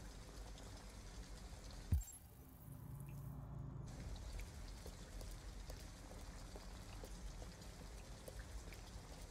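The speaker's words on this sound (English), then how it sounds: "At least we'd be out of the rain." Steady rain falls outside in the video game Detroit: Become Human, a dense, even patter broken near the start by a sharp thump and a brief muffled lull before the downpour resumes at full volume.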